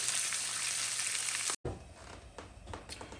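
Onions sauté in a pan for brisket, giving a dense, bright sizzle that cuts off sharply. A softer, uneven frying crackle then follows with light stirring.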